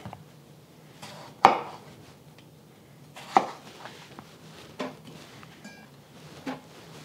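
A knife chops potatoes into big chunks for a Chinese beef stew, with four or five separate solid thuds on a board, a couple of them sharp and loud, spaced irregularly over faint background noise and no talk.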